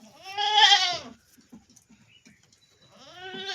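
Goats bleat on a goat farm, one loud, close, wavering call followed after a pause by a second bleat, with faint rustling and small farmyard noises in between.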